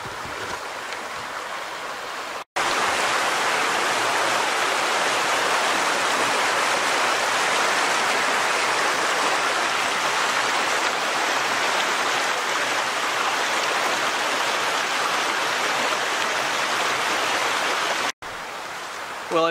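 Creek water rushes steadily in a continuous, full broadband flow, close and loud, holding constant for most of the stretch with a brief drop near the start and end.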